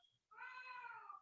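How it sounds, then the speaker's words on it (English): A pet cat lets out a single clear, drawn-out meow at close range, rising and holding steady for about a second after a short quiet pause, quiet room around it. "there goes my cat, Bella."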